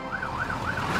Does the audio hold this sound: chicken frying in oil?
no